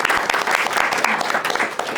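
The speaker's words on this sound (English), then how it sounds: "So maybe a round of applause for him as well." Enthusiastic applause from an audience at an evening tech meetup, thanking a volunteer: a steady, dense wash of many hands clapping at close range for two seconds.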